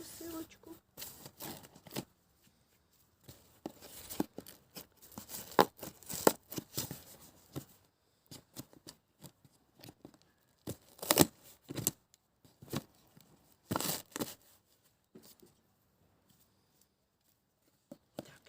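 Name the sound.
opening a package, tearing packaging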